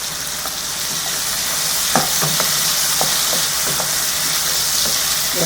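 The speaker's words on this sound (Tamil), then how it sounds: "நல்லா வதங்கட்டும்" Brinjal and tomato sauté in a pan for a Kathirikai Tokku, giving a steady close sizzle with irregular scrapes and knocks from stirring throughout.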